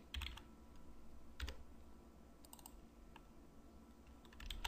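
Quiet keystrokes on a computer keyboard tap in small irregular clusters, close and faint, with no voice over them.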